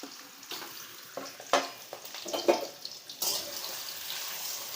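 Chopped potatoes dropped into hot oil in a pan for a dry Marathi potato bhaji over low gas, giving a steady close sizzle with a few louder splashy bursts and stirring noises, no talk.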